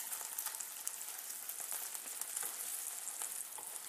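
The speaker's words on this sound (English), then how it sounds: "can hear it probably sizzling, and I think it needs flipping" A beef burger fries in a pan, giving a close, crackling sizzle full of small pops, steady and alone with no voices.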